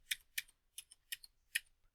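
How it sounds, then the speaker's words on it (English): Keys on a computer keyboard are tapped in a quick, uneven series of about six crisp clicks over two seconds, fairly close and quiet, with no voices. "After we're done typing,"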